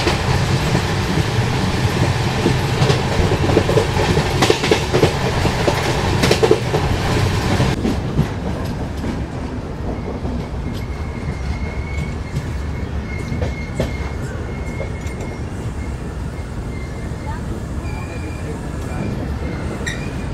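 Durg–Nizamuddin Humsafar Express rolling on rails, a loud steady broadband rumble with rhythmic wheel clatter that eases after several seconds, pulling into Anuppur Junction; a voice speaks faintly over it.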